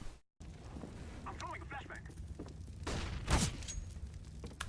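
Gunfire strikes an enemy player on the Mirage map in CS:GO, with one sharp, loud burst of shots standing out briefly over a steady background of game noise.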